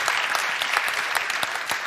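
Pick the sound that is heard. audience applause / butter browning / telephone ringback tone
audience applause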